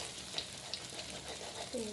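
A Thai-style egg omelette fries in a pan, giving a soft steady sizzle with faint crackles, fairly quiet and close.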